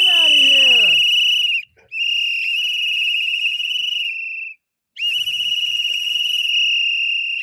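Loud, shrill whistles blow at close range in long sustained blasts, the first sliding down in pitch, separated by brief silent gaps.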